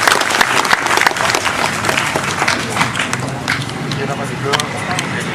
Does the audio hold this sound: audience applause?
yes